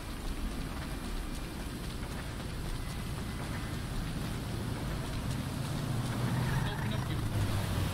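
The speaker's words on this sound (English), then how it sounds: "It's raining." Steady rain falling in the video game GTA 5, a constant hiss of drops with low rumbling mixed in, filling the scene continuously at moderate level.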